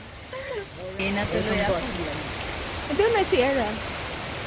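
Steady rain patters and hisses in the background while people talk over it, at an outdoor swimming spot in Nueva Ecija, Philippines.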